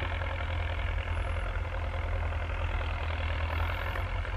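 A Belarus 1025 turbo tractor engine runs while the tractor moves, giving a low, steady diesel rumble heard from a moderate distance.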